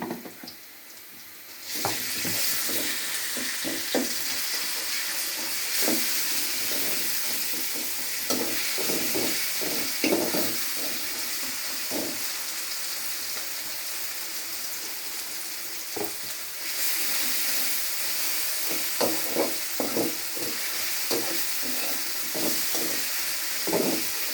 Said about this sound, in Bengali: আদা ভাজা হয়ে গেছে, এখন আমি দিয়ে দিব রসুন দিয়ে দিব।